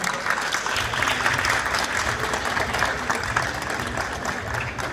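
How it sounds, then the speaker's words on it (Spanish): Audience at an event for a state governor breaks into sustained applause, a dense wash of clapping that holds evenly at moderate loudness across the whole stretch. "nuestro gobernador José Vázquez, el cual le pido un gran aplauso para él"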